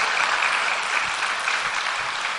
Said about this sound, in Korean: 박수 안 쳐주셨으면 굉장히 썰렁할 뻔했습니다